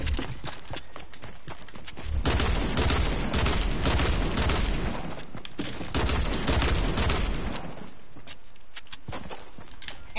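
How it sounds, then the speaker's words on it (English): Rapid gunfire from a video game weapon rattles in dense, loud bursts, with a heavy volley from about two to five seconds and another shortly after, thinning out into scattered shots. "I hate the fire rate of this gun."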